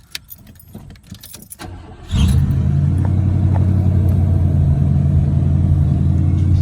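A 1987 Buick Regal's factory 307 V8 catches after some faint key jangling and rattling, then settles into a loud, steady, deep idle rumble close by with no one talking.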